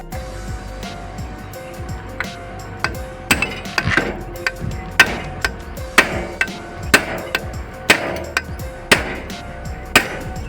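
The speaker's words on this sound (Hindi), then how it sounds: "यहाँ पर हैमर और चीजल की सहायता से ठोककर गियर बॉक्स को अंदर फिट करेंगे" Hammer strikes on a chisel driving a gearbox into place on a power reaper, sharp metallic blows landing roughly once a second, loud and close, growing heavier toward the end, with no talking.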